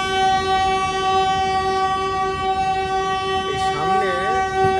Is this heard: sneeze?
no